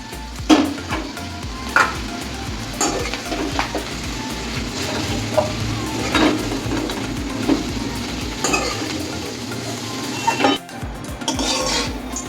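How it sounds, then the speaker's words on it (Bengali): Egg and jackfruit curry lightly frying in a pan, a steady close sizzle broken by scraping and clinking as the pieces are stirred, with no voices. "খুব একবারে ভাজবো না, একটু হালকা ভাজবো।"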